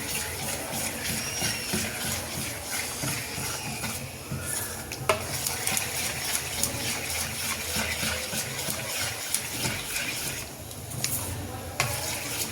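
Rava dhokla batter with Eno and oil being stirred in a bowl, a steady scraping and swishing that runs the whole time, with a few sharper clinks of the spoon against the rim.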